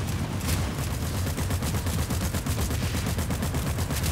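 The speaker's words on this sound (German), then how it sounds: "Ey, ich baller drauf." Rapid gunfire from a weapon in the shooter game PlanetSide 2, a dense, steady automatic burst at moderate level with no talk over it.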